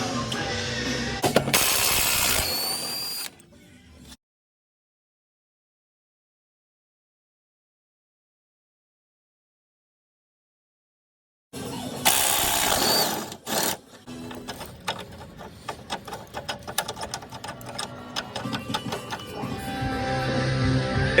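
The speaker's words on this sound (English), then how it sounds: "we are going to remove this bolt completely, then screw it back in 4 or 5 turns" A power tool ratchets rapidly while working on a rear strut bolt of a 2007–2017 Jeep Patriot or Compass. Two loud mechanical bursts are separated by several seconds of silence, and the second run is longer and steadier.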